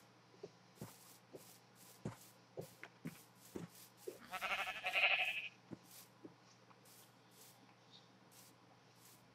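Sheep in the Minecraft video game bleat as several short, faint calls spread across the scene, one louder and longer bleat rising in the middle, with soft clicks and game sounds between them.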